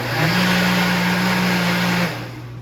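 Blender whirling a custard of eggs, sugar, cream cheese, sour cream and cottage cheese: a loud, steady motor hum for about two seconds, then winding down, with no talking.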